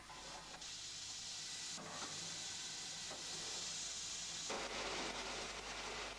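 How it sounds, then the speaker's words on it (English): Steam locomotive Bradley Manor, a restored engine on the West Somerset Railway, hisses steadily as steam pressure builds in the station, a continuous loud broadband hiss that shifts in intensity several times. "As steam pressure builds up"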